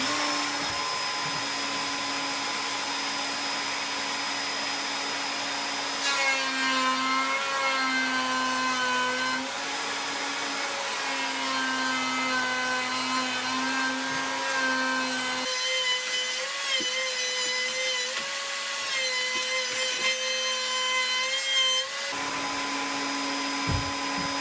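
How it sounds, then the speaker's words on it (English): Router cutting rabbets into wooden boards for shiplap, a loud steady high-pitched motor whine with the bit biting and shifting in tone as it passes through the wood, continuous throughout with no talking. "So I'm going to do that and cut my boards."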